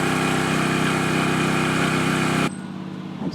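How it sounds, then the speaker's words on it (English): A backup generator at a home runs steadily with a loud, dense engine drone, then cuts off sharply, leaving quiet background. "We like to start the generator once a month and make sure it's in good working order."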